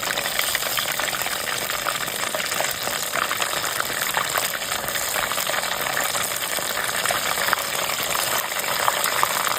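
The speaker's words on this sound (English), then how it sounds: "We have our last 2 egg rolls in the oil, cooking, finishing up." Buffalo chicken egg rolls frying in hot oil, a steady dense sizzle and crackle that stays loud and even throughout with no talking.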